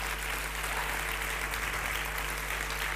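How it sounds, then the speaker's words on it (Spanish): Applause from an auditorium audience during a Spanish-language talk, a continuous wash of many hands clapping together, heard at moderate volume with a steady hum underneath and no voices over it. "Date un fuerte aplauso en esta tarde."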